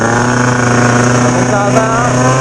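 A 50cc scooter pulls away from a standing start, its small engine buzzing loud and close with a high, steady rasp that holds throughout as it gathers speed.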